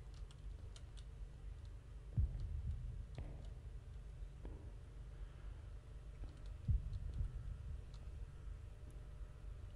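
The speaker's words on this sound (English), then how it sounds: "Why is there a heartbeat?" A heartbeat effect in the horror game Deppart thumps faintly and slowly, two soft low beats several seconds apart beneath a steady hum and scattered light clicks.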